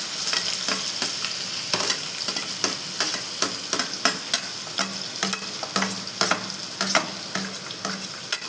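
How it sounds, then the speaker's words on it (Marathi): Onion frying in hot oil with cumin and whole spices crackles and sizzles steadily, broken by a quick series of sharp spatula scrapes and taps against the pan, heard up close with no talk. "आता आपण टाकणार आहोत कांदा।"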